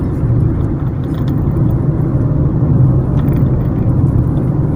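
A vehicle rides along a wide six- or four-lane road, its steady engine hum and rushing road noise running loud and constant with no pauses.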